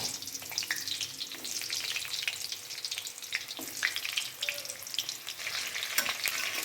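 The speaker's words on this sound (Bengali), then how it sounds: "পেঁয়াজগুলো হালকা ব্রাউনিশ করে ভেজে নিতে হবে ভালো করে" Onions sizzle and crackle steadily in a hot pan while being fried for Kolkata-style mutton keema ghugni, with occasional stirring scrapes over a continuous close frying hiss.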